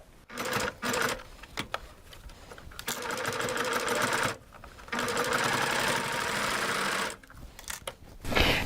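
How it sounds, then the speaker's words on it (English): Serger sewing a flatlock seam along a fabric edge, loud close rapid mechanical whirring in several runs of a second or more, broken by short pauses. "We're going to sew right along our edge with our Flatlock"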